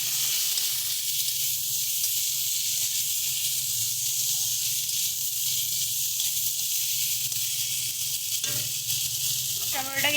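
Chopped tomatoes fry in a pan with shrimp and okra, giving a loud, steady sizzle and hiss that runs throughout, with a brief stirring clatter near the end.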